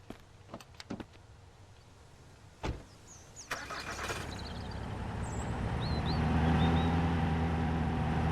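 A truck in the Mist Survival game: a few clunks and door-like knocks, then the engine cranks and catches, settling into a steady idle that swells louder and holds to the end, with no talk.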